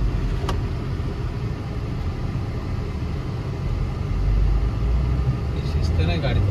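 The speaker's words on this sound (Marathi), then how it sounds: "या गाड्या बघा कुठून येत आहेत।" Cars and other vehicles pass on a single-lane highway through the Karle ghat near Alibag, a steady rumble of traffic that swells near the end. Someone talks over it throughout.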